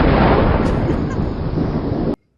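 A thunder sound effect standing in for lightning: a loud, broad rumbling crash that holds steady for about two seconds, then cuts off abruptly into silence.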